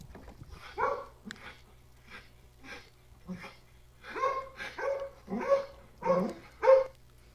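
A dog barks in a string of sharp, irregular yaps, some doubled and some single, fairly close, with occasional voices in between.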